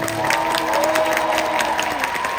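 Concert crowd at a K-pop DREAMSHOW 3 ending applauding and cheering, sustained clapping with a shrill high-pitched tone ringing through it.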